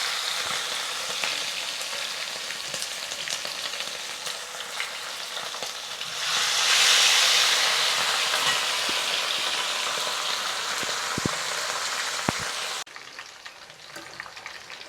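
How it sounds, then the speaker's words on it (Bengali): Rupchanda fish frying in hot oil in a wok, a steady bright sizzle running throughout that swells louder around the middle, with occasional small clicks and pops, then drops abruptly quieter near the end. "তেলটা গরম হয়ে গেছে। এখন মাছটা দিয়ে দেবো।"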